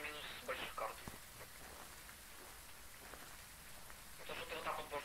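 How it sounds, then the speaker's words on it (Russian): Steady rain hisses throughout in Phasmophobia, a soft continuous wash at low level, with people talking over it at the start and end. "Опять не слышно из-за дождя."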